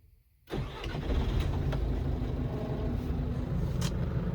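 After a brief silence, a car engine cranks and catches, settling into a steady near idle that runs continuously to the end.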